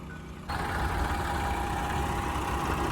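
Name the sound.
tractor engine running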